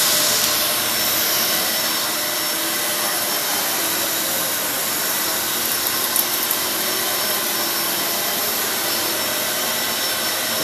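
A Kenmore 600 series bagless vacuum cleaner runs continuously at close range, a loud, steady motor whine and airflow roar holding even for the whole stretch with no voices.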